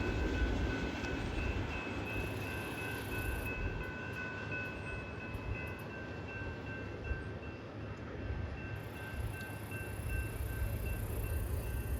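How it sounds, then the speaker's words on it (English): A long Union Pacific and BNSF autorack freight train rolls past, a faint, distant and steady rumble that holds evenly throughout. "There was one train."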